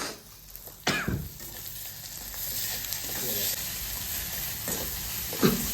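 Food frying in a pan on reduced heat, with a steady close hiss of sizzling and a few sharp scraping stirs and spoon knocks at irregular intervals, without talk.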